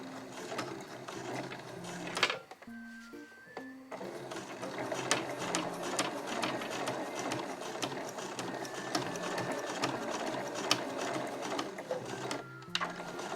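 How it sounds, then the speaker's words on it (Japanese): Sewing machine stitching slowly around the curved edge of a small zipper pouch made from Marimekko fabric scraps, a steady close mechanical whirr with a brief pause midway before the stitching resumes. "ちょっとねカーブのところ縫いにくくなりますけれどもゆっくり縫っていきましょう。"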